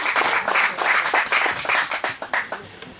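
An audience at a Communist party festival debate in Corrèze applauds, a dense, even round of clapping that thins into scattered claps by the end.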